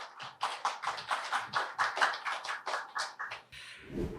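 Applause at an Incheon social welfare center association meeting as the association president is welcomed to the front: a fairly sparse, rhythmic patter of clapping from a modest audience, steady for about three and a half seconds before tailing off.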